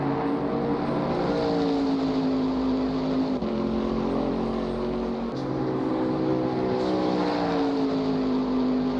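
A V8 Racing Camaro race car drives a lap at Silverstone, its engine a loud, steady drone with gliding pitch as it shifts gears and rises and falls in revs throughout.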